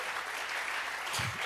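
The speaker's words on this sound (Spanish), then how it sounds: "Vamos a regalarle ofrenda de palmas al Dios de la gloria." A church congregation claps together as an offering of praise to God during a Bible study service, a steady crowd of applause that holds at an even, dense level throughout.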